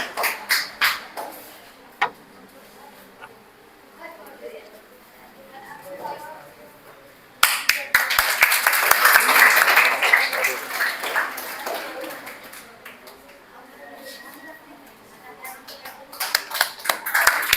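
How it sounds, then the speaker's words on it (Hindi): An audience at a coaching-class unit test results event applauds for Miss Archana; after a few seconds of voice and sparse claps, a loud, sustained round of clapping takes over, with scattered claps continuing to the end. "Please clapping for her."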